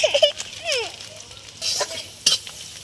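Onion with cinnamon, cumin, salt and turmeric stirred in a hot pan, brief sizzle and a few spatula scrapes, with faint voices and a child's chatter in the background.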